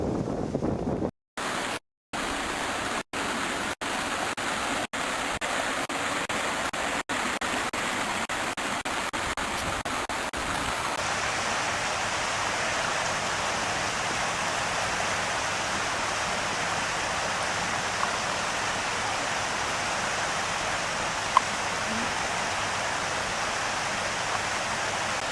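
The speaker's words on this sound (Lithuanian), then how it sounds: "Čia vanduo kaip bėga, tai siaubas kokia." Water rushes and roars at the Girvas hydroelectric plant in Karelia, a loud, steady broadband torrent that continues throughout. Several sharp clicks and brief dropouts occur in the first ten seconds, and no one speaks.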